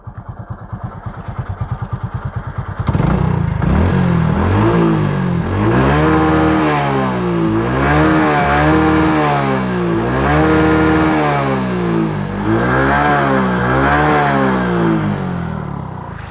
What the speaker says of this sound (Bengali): ইঞ্জিনের সাউন্ডটা শোনাবো।